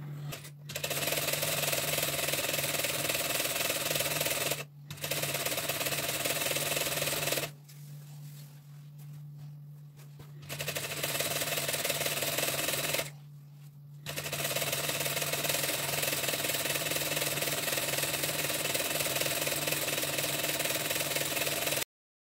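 A sewing machine runs a gather stitch through crinoline in long steady mechanical whirring bursts. Short pauses split the runs and one longer stop comes midway, with no talking.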